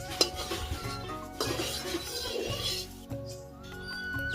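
Mustard oil is swirled around a metal kadai on a stove, with scraping and clinking of metal on the pan and a brief sharp knock near the start, all close by and moderately loud.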